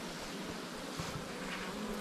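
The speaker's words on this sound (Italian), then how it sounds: "guardate quante api sono" Honeybees crowd a packed beehive in January, a dense, steady buzzing hum that carries on without a break from start to finish.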